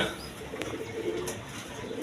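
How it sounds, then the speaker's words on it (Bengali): A pair of Jacobin pigeons coo softly at close range, low murmuring calls over a steady background hum. "এখানে এক পেয়ার জ্যাকোবিন কবুতর আছে"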